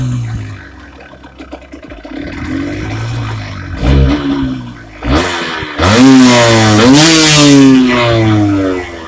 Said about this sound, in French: Le moteur.